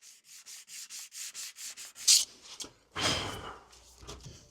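Rhythmic back-and-forth rasp of sandpaper on a wooden guitar body, about eight even strokes, then a few irregular scrubbing passes, close and alone.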